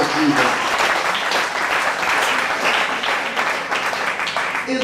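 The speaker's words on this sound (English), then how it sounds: "Let's clap" Church congregation clapping together, a dense, loud, steady burst of many hands that holds unbroken for several seconds, with faint voices mixed in.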